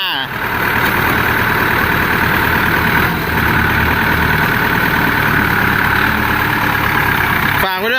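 A Kubota L1-265 four-cylinder four-wheel-drive tractor engine idles steadily and loudly close by, a constant low rumble with no change in pace.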